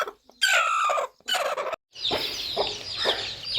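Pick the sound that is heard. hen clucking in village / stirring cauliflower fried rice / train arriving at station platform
hen clucking in village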